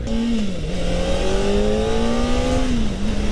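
A tuned Kawasaki Ninja ZX-4RR motorcycle gives a loud, steady, high-pitched induction howl up close, its pitch wavering slightly as the revs hold and shift.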